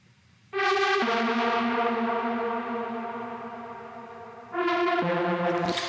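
A sustained, buzzy synth lead from a Novation Peak holds long notes with a slightly sour, detuned edge, stepping down in pitch, then jumping to a new note near the end.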